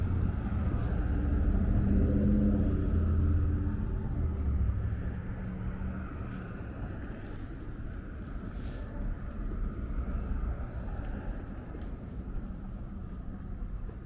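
Traffic rolling along a busy 2nd Avenue in New York City, a continuous low rumble of passing cars, louder at first and then settling into a steadier drone, with no one talking.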